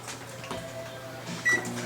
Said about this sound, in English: I'm going to stick it in the microwave here